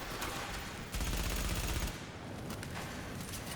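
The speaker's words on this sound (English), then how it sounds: "I just pre-fired a whole lot around the corner to be sure" Sustained rapid gunfire in the video game The Division, a dense, loud burst of shots sprayed around a corner that swells briefly and then continues at a lower level.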